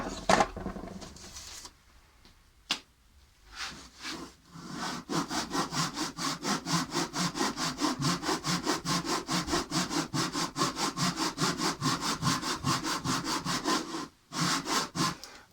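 Rhythmic hand sawing through wood, rapid back-and-forth strokes close up, pausing briefly near the start and again near the end.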